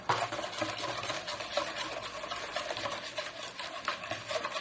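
Oil being stirred into madeleine batter in a bowl, a quiet continuous scraping and swishing of the mixing utensil with soft irregular strokes and no talking.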